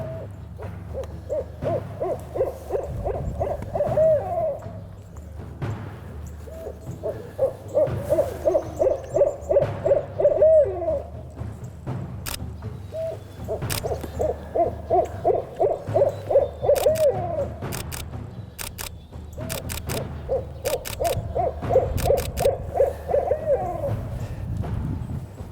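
A large barred owl hoots in a backyard at night, its rhythmic series of deep, resonant hoots repeating in four distinct bouts, fairly close and clear over a quiet background, with a few sharp clicks near the end.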